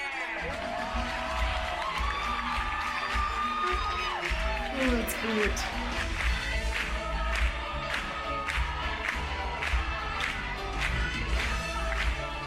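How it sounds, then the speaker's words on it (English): A theatre audience at a 9 to 5 musical performance cheers, whoops and screams steadily over loud stage music, a dense, continuous crowd roar, with a voice briefly speaking close by. "The cheering, the screaming."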